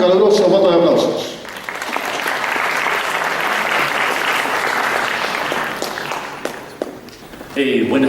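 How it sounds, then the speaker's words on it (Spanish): A conference audience of economists in Cusco gives warm applause to welcome a speaker, a dense, sustained round of clapping that swells and then tapers off, with voices speaking just before and after. "Lo recibimos con un caluroso voto de aplausos."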